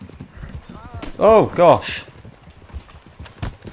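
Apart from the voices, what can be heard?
horse hooves galloping in the video game Red Dead Online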